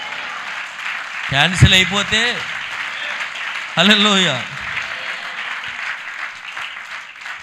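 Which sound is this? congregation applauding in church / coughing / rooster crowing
congregation applauding in church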